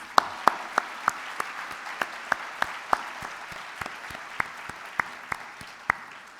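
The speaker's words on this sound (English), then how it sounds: "Let's give them another round of applause." Luncheon audience at a women in STEM recognition event giving a round of applause, a steady bed of crowd clapping punctuated by loud, evenly spaced claps from someone close by.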